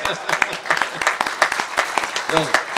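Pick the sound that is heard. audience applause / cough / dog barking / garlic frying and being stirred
audience applause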